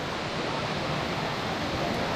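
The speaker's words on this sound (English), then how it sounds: "this waterfall cascades all the way down slowly till below" A waterfall in Himachal Pradesh cascading steadily downward, heard as a continuous, loud rushing roar of falling water with no pauses and no voices.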